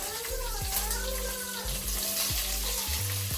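Dried red chillies and curry leaves crackle and sizzle in hot oil, a steady loud fry with a few spits and pops, for an Onam-style pumpkin erissery.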